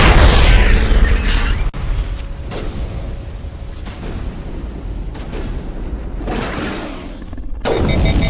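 A grenade explosion in Mass Effect on Feros, a loud, close blast with a booming roar that decays slowly into rumbling debris, followed by another heavy burst near the end, with no voices.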